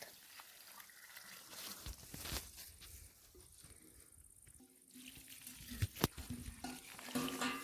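Water is drawn from a tap for watering garden plants, a soft trickling and splashing that swells and fades with a few sharp clinks, fairly quiet and without talk.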